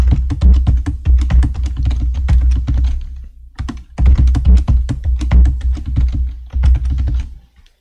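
Quick, steady typing on a computer keyboard, close and crisp, with a short pause midway before the clatter of keys resumes.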